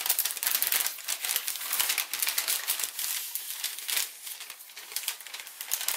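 Square of paper being petal folded while precreasing a scaled origami dragon, a steady run of close, dry crinkling and crisp rustling with no talk.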